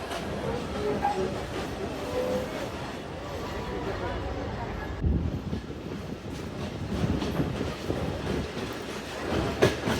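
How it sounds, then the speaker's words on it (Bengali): A local shuttle train pulls into Poradah Junction railway station with a continuous rumbling roll and rhythmic wheel clatter heard from on board, while voices murmur underneath. "আমাদের ট্রেনটি এখন পোরাদহ জংশন রেল স্টেশন প্রবেশ করছে"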